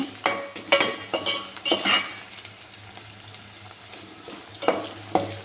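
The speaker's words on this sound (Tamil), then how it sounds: "வெங்காயம் நல்லா வதங்கி வருது." Onions sauté in a pan with a low sizzle as they are stirred. Several distinct scraping and clinking strokes come near the start and again near the end, with quieter frying between them and no one talking.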